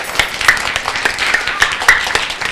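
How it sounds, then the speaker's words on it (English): Applause from an audience gathered at a library open house, a steady wash of many hands clapping at moderate loudness throughout, with sharper individual claps standing out near and far. "Give him a nice big round of applause."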